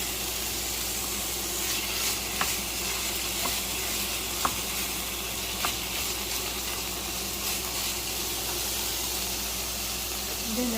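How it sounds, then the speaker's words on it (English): Food frying in a pan until golden brown for homemade pizza, a steady crackling sizzle with scattered sharp pops running throughout at moderate loudness. "just have to fry it until it's like golden brown"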